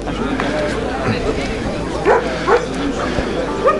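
A dog barks at a dog show in Krivogaštani, giving a few sharp yips and bow-wows around the middle and end over a steady murmur of crowd babble.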